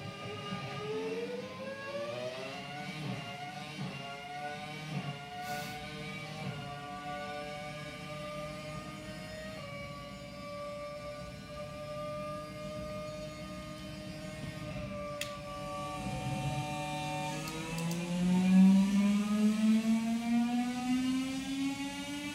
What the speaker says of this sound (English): that was cycling through the last three engine types that they've had in the sport, from a V10 to a V8, and the last one was the current V6